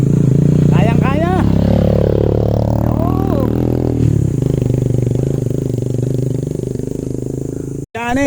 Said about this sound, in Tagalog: May isang motor na paatak.